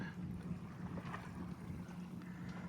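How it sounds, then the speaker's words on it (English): Wind rushes steadily over a Catalina 30 sailboat on the water near Sandpoint, a constant low roar with some mic buffeting, with no talking. "Wind's picked up a little bit."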